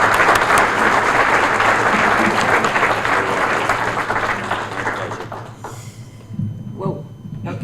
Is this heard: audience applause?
yes